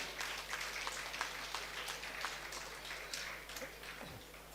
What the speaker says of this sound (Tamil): கைத்தட்டி தன்னுடைய நன்றியை தெரிவிச்சுக்கணும்னு நினைக்கிறேன்